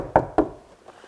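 Two firm knocks on a wooden door, close and evenly spaced, followed by quiet room tone and a faint rustle.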